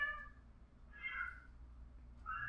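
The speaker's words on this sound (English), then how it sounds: "Oh my gosh, cat." A cat meows in Farming Simulator 17, sounding twice with a pause between them, fairly clear over a low game hum.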